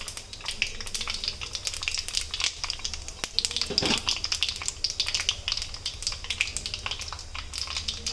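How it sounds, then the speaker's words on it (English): Mustard seeds and fenugreek popping in hot oil for Hyderabadi bagara baingan, with close, irregular crackles and sharp pops over a constant sizzle and no talking. "The mustard will start popping up."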